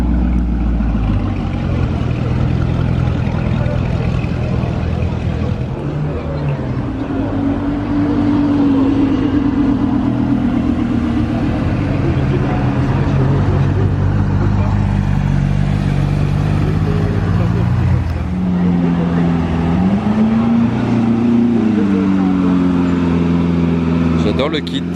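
A Ferrari 812 V12 with a non-factory exhaust rumbles steadily with a deep, loud drone and rises in pitch in a couple of revving swells, with someone talking over it.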